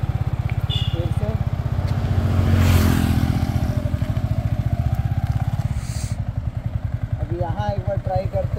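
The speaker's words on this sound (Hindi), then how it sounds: "इस बार मैं कोशिश करूँगा कि बर्नआउट के साथ साथ दूसरा गियर भी लगाऊँ, ताकि ज़्यादा स्मूथ बर्नआउट रहे।" A motorcycle with new race-track tyres attempts a burnout on a road, its engine pulsing in a close, lumpy rumble that swells into a rev and then falls back, with a voice briefly audible near the end.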